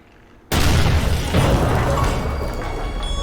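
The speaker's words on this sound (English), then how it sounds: "I don't know what the other explosion was coming from." A grenade explodes in the horror game Amnesia: The Bunker, a sudden loud, close boom that hits after a short quiet lead-in and then rolls into a long, sustained rumbling roar.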